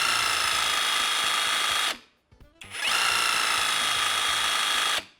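A Worx one-handed reciprocating cut saw runs at a loud, steady whine close by, cuts out abruptly for a moment, then starts again and runs steadily until it stops at the end.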